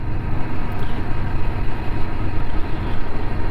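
A Kawasaki Ninja motorcycle engine with its standard exhaust can runs at a steady low rumble, close and loud, with no talking.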